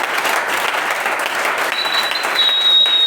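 A church congregation clapping together during a worship service, a dense, loud and steady wash of applause filling the room from start to finish.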